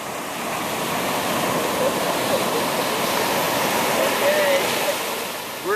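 Ocean surf on the Maui shore, a steady broadband wash of breaking waves running the full length without pause, close and fairly loud, with no clear talk over it.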